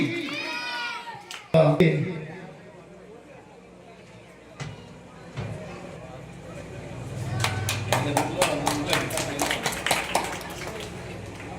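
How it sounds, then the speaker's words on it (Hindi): Scattered audience clapping at a Ramlila drama club gathering, a ragged burst of individual claps building near the end after stretches of talk and a few isolated sharp knocks. "तो एक बार जोरदार ताली बजा दीजिए।"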